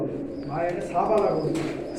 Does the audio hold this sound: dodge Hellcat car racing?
no